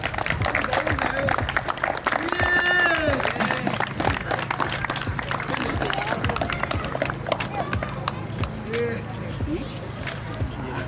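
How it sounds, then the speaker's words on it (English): Crowd at a community fundraiser event, with applause and cheering over a dense, busy background of voices, steady and loud throughout with people talking. "Mr. Matthew Cassius, a round of applause, please."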